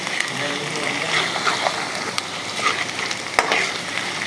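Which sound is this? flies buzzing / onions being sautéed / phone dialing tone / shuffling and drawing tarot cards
onions being sautéed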